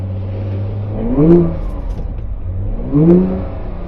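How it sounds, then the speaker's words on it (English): Porsche on the Hockenheimring circuit during drift training, engine droning then swelling twice into loud rising revs as the throttle is applied, each surge lasting under a second before settling back to a steady hum. "then we go on the throttle again to hold the drift"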